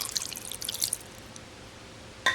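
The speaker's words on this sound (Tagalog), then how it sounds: "Then, lalagyan po natin ng water." Water pours into a wok holding pork and salt in a short, close trickle that fades out, ending with a brief clatter.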